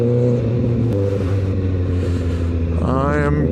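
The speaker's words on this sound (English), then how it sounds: "hopefully it picks up like the rumbles of the bike" A motorcycle's engine and exhaust rumble steadily on a night ride through Charleston, a deep continuous drone that rises in pitch near the end as the bike revs.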